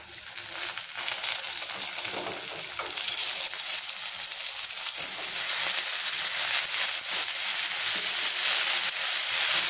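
Brinjal and sweet potato frying in a tempering of hot oil crackle and sizzle in a dense, steady hiss that grows slightly louder over time, with occasional stirring and no talking.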